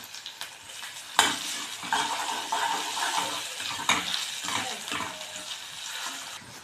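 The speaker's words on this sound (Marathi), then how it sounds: "कांदा आपला लाल झाला आहे यात आपण टमाटे भिजवून घेऊ" Tomatoes added to reddened fried onions in a pan, with close stirring scrapes, clinks of a utensil against the pan and a soft sizzle in uneven bursts, no talk.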